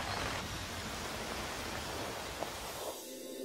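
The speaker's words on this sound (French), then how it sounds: "les premières gouttes d'eau se transforment vite en pluie torrentielle" Steady torrential rain in South America pours down in a dense, hissing wash, with a few louder drops breaking through before the downpour suddenly thins near the end.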